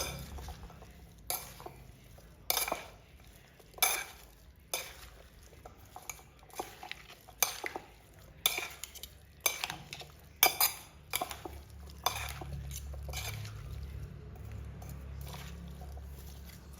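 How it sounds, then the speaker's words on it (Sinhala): Spoon stirring a fruit salad with lime juice in a bowl, a steady series of sharp clinks and wet squishes, about one every second, close and fairly quiet with no talk. "ඔයගොල්ලන්ට මේ හැන්දකින් අනා ගන්න පුළුවන්"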